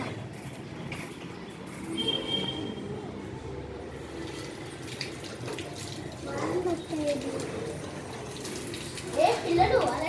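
Water runs from a tap in a steady splashing stream while children play and chatter nearby, their voices rising over the flow toward the end.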